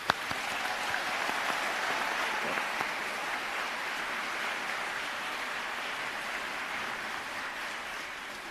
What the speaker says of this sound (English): Please join me in a round of applause for the family and friends joining us today.